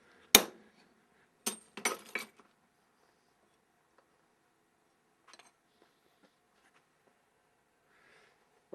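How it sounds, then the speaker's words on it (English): A hammer sharply taps a center punch into metal for a knife guard: a single ringing strike, then a quick cluster of three metallic hits, a faint tap later and one more at the end, separated by near silence. "I'm just going to do a little center punch here just to help my drill bit get started"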